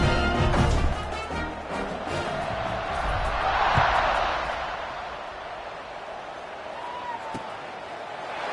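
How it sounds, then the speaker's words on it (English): A stadium crowd at an American football kickoff, a broad steady roar that swells toward the middle and then eases, with a commentator talking over it. "They're set to kick it off, and this crowd now ready to get behind them."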